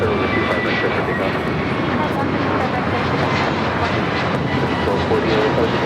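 An airliner taking off from runway 25 right at Los Angeles International Airport, a steady loud roar of jet engines holding constant throughout.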